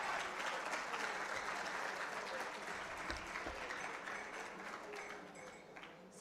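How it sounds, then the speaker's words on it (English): An audience at a live inter-school business quiz claps for the contestants, a sustained, even wash of many hands heard at a distance and fairly faint, thinning slightly toward the end. "Please let's clap for our contestants."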